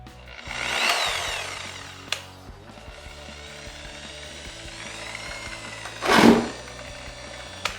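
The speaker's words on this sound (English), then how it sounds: "I'm going to use some cutting compound along with my polisher on the cutting pad, go over the whole surface" A rotary car polisher runs cutting compound on a cutting pad over fresh home-painted car bodywork, its whirring motor swelling loudly twice, near the start and again toward the end, between quieter stretches.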